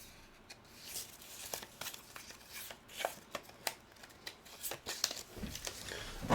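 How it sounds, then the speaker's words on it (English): Small tabletop game activation counters are shuffled by hand, producing a quiet run of irregular clicks, rustles and scrapes at close range over several seconds. "Activation order gets shuffled."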